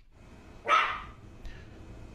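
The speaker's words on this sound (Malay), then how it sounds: "ni kenapa ini anjing bising?" A dog lets out one loud, sharp bark inside a house at night, followed by a fainter short yip, against a quiet background.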